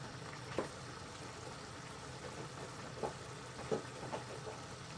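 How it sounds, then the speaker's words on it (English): A pot of garlic chilli chicken curry gravy bubbles gently as it simmers and reduces, a soft steady hiss with occasional louder pops and blips. "let it reduce down to what sort of consistency the gravy I want, whether you want it thick or quite runny"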